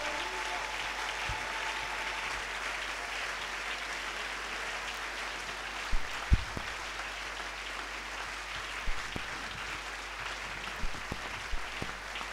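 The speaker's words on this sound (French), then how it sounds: "est-ce que nous pouvons donner une offrande des acclamations pour la gloire du Seigneur?" A church congregation applauds and cheers as an offering of praise, a steady sustained wash of clapping filling the room at moderate distance, with a few sharper thumps and knocks standing out now and then.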